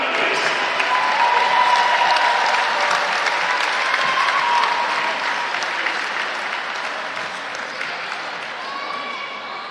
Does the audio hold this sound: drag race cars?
no